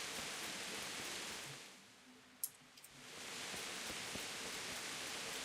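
Steady rain pouring in the medieval game Kingdom Come: Deliverance, a dense hiss that fades out mid-clip, leaving a few small clicks, then swells back to full downpour.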